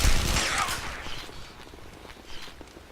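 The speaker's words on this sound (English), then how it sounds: "Firing blindly." Gunfire in the shooter game Interstellar Marines: a loud close burst of shots at the start that fades into softer scattered shots and faint footsteps, with no talking.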